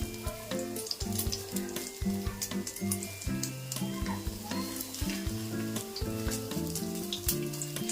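Four bread slices fry in a pan over a medium flame with egg, a steady close sizzle throughout, layered under continuous tonal background music.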